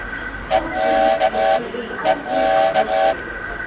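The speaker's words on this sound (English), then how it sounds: "Peter Sam decided to join in with his whistle." A steam engine's whistle gives two pairs of short toots, each a quick blip followed by a longer blast, shrill and prominent, with a brief pause between.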